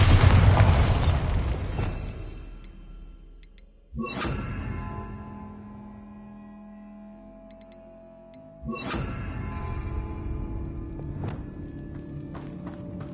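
A Bombarda spell explosion in the Hogwarts Legacy video game, with two loud booming bursts several seconds apart, each dying away into a ringing, decaying tail.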